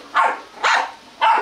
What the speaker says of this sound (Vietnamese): Là thấy tiếng sủa lại này